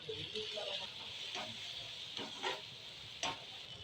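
Chopped onions fry in a pan with salt and turmeric for egg bhurji, giving a steady soft sizzle with intermittent scraping stirs, fairly quiet and close.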